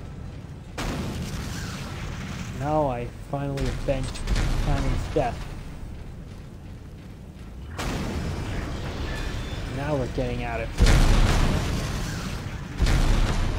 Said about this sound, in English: A whole lot of explosions.